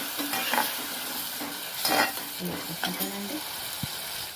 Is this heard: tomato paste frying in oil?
yes